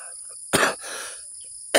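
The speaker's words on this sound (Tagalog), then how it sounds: "inubo-ubo pa nga tayo" Two sharp, close coughs about a second apart, with a softer breathy sound in between, over a faint steady high-pitched insect hum.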